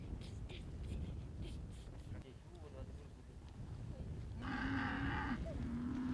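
A grazing cattle herd on the Inner Mongolian grassland of Ar Horqin lets out one clear, drawn-out moo near the end, set against a faint windy outdoor background.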